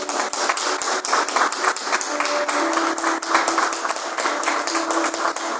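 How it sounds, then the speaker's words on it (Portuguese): A church congregation claps during a Portuguese sermon on Daniel in the lions' den, steady brisk applause from many hands throughout, fairly loud and close, with a faint sustained tone underneath. "palmas para Jesus, irmãos"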